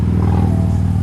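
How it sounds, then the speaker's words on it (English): A motorcycle passing nearby, a loud throaty engine drone with a slight rise in pitch, brief and dominating the moment. "sorry for the motorcycle noise."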